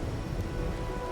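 Heavy rain pours in the video game Wuthering Waves with a low rumble of thunder rolling underneath, loud and dense throughout the short stretch. No voices are heard.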